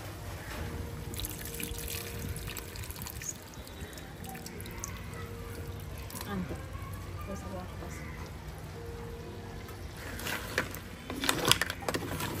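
Tamarind juice is poured from a bowl into a sea crab curry, making a continuous close splashing and bubbling patter of liquid in the pot.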